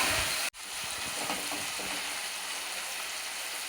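Sesame curry ingredients frying in a pan with turmeric, a steady broadband sizzle holding close and even for several seconds, briefly cut by a sharp break near the start.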